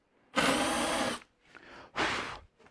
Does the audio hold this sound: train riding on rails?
no